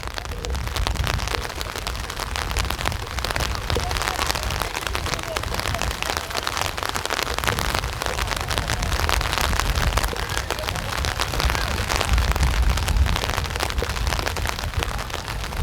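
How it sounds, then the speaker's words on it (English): Steady rain hisses down at an outdoor football game, dense and constant, with a crowd and faint voices murmuring underneath. "Wind picking up, rain picking up as well."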